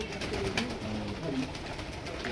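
A pigeon coos softly and repeatedly against a steady outdoor background hum, close by and unhurried.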